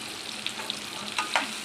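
Chopped tomato with turmeric fries in a pan for a curd curry, a steady close sizzle broken by a few sharp crackles and spatula stirs, with no talking.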